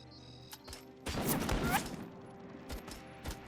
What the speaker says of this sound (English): My gun is very quiet, but it seems to work